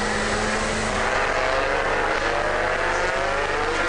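Dodge Viper GT race cars roaring together on the opening lap of an FIA GT race at Magny-Cours in 2002, a dense continuous engine drone at full throttle, loud and unbroken.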